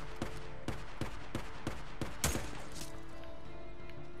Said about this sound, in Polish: Ktoś tam jeszcze do mnie strzela z daleka.